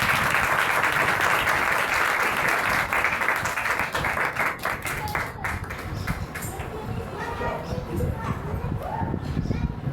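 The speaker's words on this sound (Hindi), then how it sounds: "उन बच्ची के लिए जोरदार ताली बजाएं।" A church congregation applauds for a young girl who recited scripture, a dense steady wash of many hands clapping that fades slightly toward the end, with some crowd noise mixed in.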